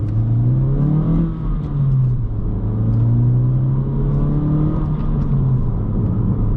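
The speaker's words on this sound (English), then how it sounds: "hear the induction noise and hear the engine more than the factory setup on this car" A 2.0-litre Honda Civic Sport with a modified airbox drones with a loud, steady engine and induction hum from inside the cabin, the pitch rising and falling gently with the throttle.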